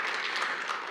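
A church congregation at a Korean Sunday service in Washington breaks into applause, a brief, dense patter of many hands clapping together with no speech on top.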